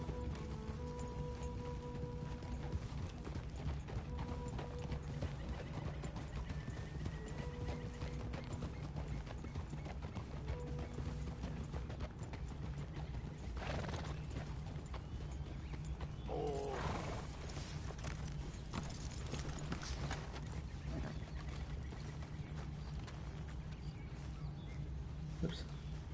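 Horse hooves clip-clopping steadily at a walking pace in the video game Red Dead Redemption 2, with faint creaks and mechanical ambience in the background, no talking.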